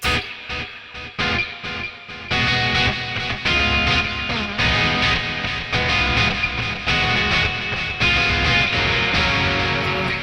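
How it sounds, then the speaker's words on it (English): Electric guitar through a Joyo Atmosphere reverb pedal set to a digital delay: a few picked notes, then sustained chords with repeating echoes and a wash of reverb, loud and played alone. "It's very much a digital delay."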